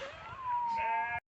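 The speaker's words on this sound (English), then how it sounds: "Sheep everywhere, of course." A single sheep bleats in a long, wavering cry out in open countryside, close and fairly loud, ending abruptly.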